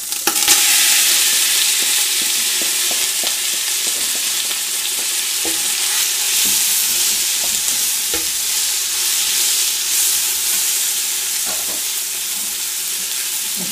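Onions and beef sauté together in a casserole pot for a Flemish carbonnade, a steady broadband sizzle running throughout, punctuated by scraping stirs of the utensil against the pot, close and fairly loud, with no voices.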